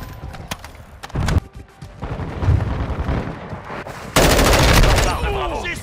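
Rifle fire from an M4 in a Modern Warfare multiplayer match, with rapid bursts and single loud cracks, some distant and some close, amid dense battlefield noise and explosions.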